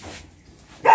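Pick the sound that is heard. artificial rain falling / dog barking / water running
dog barking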